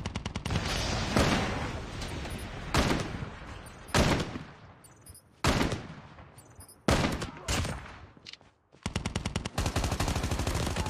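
Rapid automatic gunfire from a Call of Duty Mobile match, loud and close, coming in several sharp bursts separated by short pauses, with sustained firing near the end.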